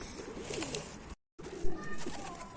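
Pigeons coo softly outdoors in a loft setting, a few low murmuring calls scattered under faint background noise, interrupted by a brief silent gap.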